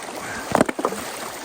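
A few rocks splash into a shallow stream one after another, two or three short close plunks over a faint outdoor background.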